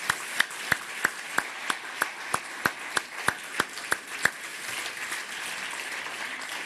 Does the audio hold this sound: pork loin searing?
no